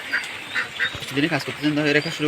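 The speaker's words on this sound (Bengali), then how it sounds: "যে বৃষ্টির দিনে হাঁস মুরগির কি অবস্থা দেখেন" Ducks and chickens in the rain, with several short, nasal quacks and honks close by and a person talking over them.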